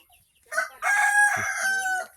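Rooster crowing once on a mixed fruit and vegetable farm, a single loud, near call after a short clucking note.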